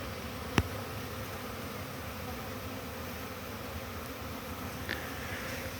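Honeybees on a winter day fly around beehives, a green hive among them, in a steady faint insect hum with a single sharp click near the start.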